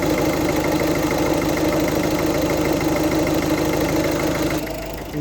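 A Citroen C4 Grand Picasso engine idling just after an oil change, a steady, loud mechanical hum with a fine regular ticking running throughout, easing off slightly near the end.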